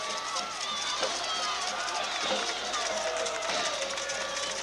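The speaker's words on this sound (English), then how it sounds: "Pontotoc crowd really into it now." Crowd at a high school football game in Pontotoc against Oxford, cheering steadily from a distance, with a commentator talking over the noise.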